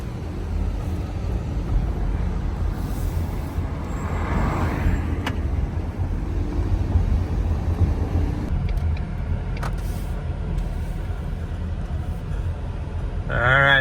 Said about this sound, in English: giving this little Mustang a spin